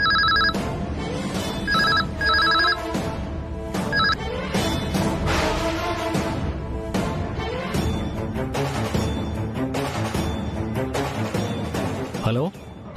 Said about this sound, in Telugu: ఈ టైంలో ఫోన్ ఏంటి?